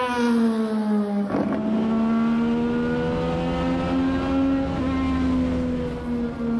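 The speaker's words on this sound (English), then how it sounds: "if you hear that burble, blah, blah, blah, that means he's not pushing it hard enough." A car engine burbles steadily while coasting off throttle, a loud continuous low harmonic drone with slight pitch drift and a brief sharp pop near the start.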